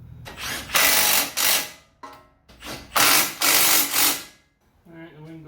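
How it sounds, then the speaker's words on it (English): Cordless impact wrench tightening nuts on a Honda Civic automatic transmission install, two loud rattling bursts of hammering, each lasting over a second, followed by a brief voice at the end. "we'll use our impact to tighten it"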